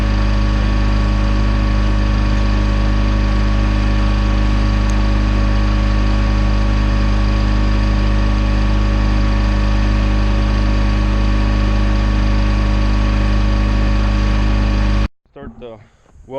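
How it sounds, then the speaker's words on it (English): An old Detroit Diesel engine on a welder idles steadily while warming up. The tone is loud, constant and close, with a strong low drone and firm harmonics, and it cuts off abruptly near the end. "start the welder up, old Detroit. I'll let it warm up for about 3-4 minutes."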